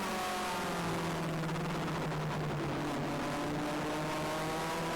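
Race car accelerating away at the green flag start of a heat race, a steady loud engine drone rising in pitch from inside the car, no talk.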